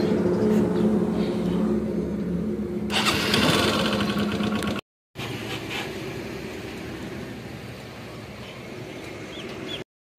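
A motorcycle engine drones steadily while the bike rides on a long highway trip from Nagaur toward Jodhpur in Rajasthan. Loud wind-buffeted running noise is briefly cut off twice by short silences.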